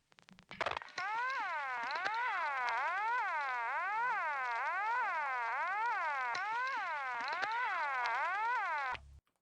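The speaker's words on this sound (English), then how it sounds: "the ones who kept on listening were eventually startled by a loud and unsettling siren sound" Loud, eerie warbling siren rising and falling in a fast repeating cycle for about eight seconds, starting after a short burst of noise and cutting off abruptly, with no voices.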